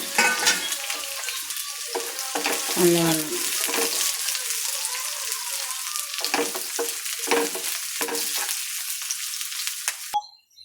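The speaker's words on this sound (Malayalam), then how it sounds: "നമുക്കിതിനകത്തോട്ട് ഒരു സവാള അരിഞ്ഞത് നീളത്തിൽ ഇവിടെ ഒന്ന് വറുത്ത്" Long-sliced onion fries in a pan for a potato and chilli chammanthi, giving a loud, dense, continuous sizzle with scraping stirs and soft bubbling that stops abruptly near the end.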